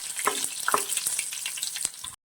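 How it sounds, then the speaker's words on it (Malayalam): Dried red chillies fry in hot oil with mustard seeds, a steady close sizzle broken by sharp crackles and a few stirring clicks before it cuts off. "വരുമ്പോൾ നമുക്ക് ഉണക്കമുളക് ഇട്ട് കൊടുക്കാം."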